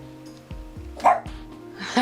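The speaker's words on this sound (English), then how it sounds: "My dog barked" A dog barks several times in quick, close succession, sharp woofs over a low background hum.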